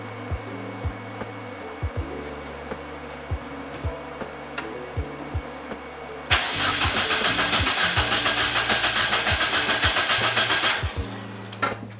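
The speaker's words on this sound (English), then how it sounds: "Fuel pump is definitely priming." On a Mazda Miata, a few scattered ticks and clicks come first, then the fuel pump primes with a steady electric buzzing hum that lasts several seconds before cutting off.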